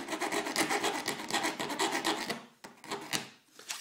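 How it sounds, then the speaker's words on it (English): Hand file rasping against the edge of a rudder rib, a steady run of repeated close strokes that breaks into a few slower, separate strokes near the end. "Helps to get the edge you're filing against up against the table."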